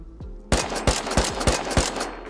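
Gunfire in the survival game Rust comes as a burst of about six sharp, loud shots in quick succession, each with a short decaying tail, with no talk over them.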